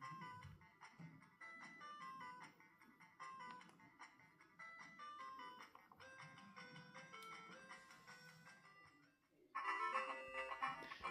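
Konami Golf plays on a Nintendo Game Boy, giving continuous chiptune music with bright, beeping square-wave melodies and a louder jingle near the end, steady and unaccompanied by speech.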